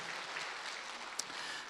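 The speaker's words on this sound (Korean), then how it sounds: "다시 한번 하나님 앞에 영광의 박수 올려드리겠습니다" Applause from a congregation at a Tuesday evangelism church service: a faint, steady wash of clapping that runs throughout with no voices.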